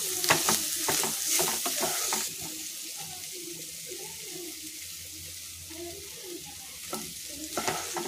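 A spoon stirs and mashes vada pav potato filling in a pan, with scraping strokes and soft sizzling at the start, then quieter mixing sounds and occasional clinks near the end.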